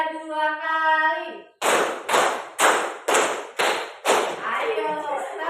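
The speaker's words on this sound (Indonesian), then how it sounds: "Ayo, tepuk 2 kali" A group of people claps in unison, a chant voice first, then six sharp, evenly spaced group claps ringing close and loud, followed by more chanting voices.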